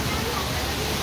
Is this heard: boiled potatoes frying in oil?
no